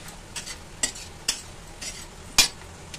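Softened onions sizzling on low flame as turmeric powder is stirred in, with a gentle steady fry hiss and several sharp spoon knocks and scrapes against the pan, no voices.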